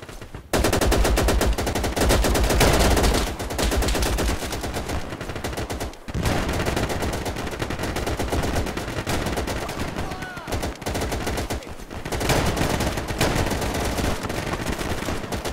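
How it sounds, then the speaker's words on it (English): Sustained machine gun and rifle fire in Easy Red 2, a WWII Burma hill battle, with dense, continuous bursts of automatic fire close by, briefly broken by short pauses before the shooting resumes at full intensity. "I'm under fire!"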